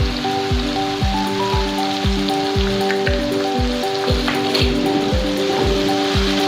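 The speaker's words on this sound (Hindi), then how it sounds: "इसको 5 से 10 मिनट के लिए अच्छे से फ्राई करेंगे।" Mutton karahi frying in a pan, a steady, rain-like sizzle and crackle of hot oil that runs throughout beneath a louder rhythmic music track with a thumping beat.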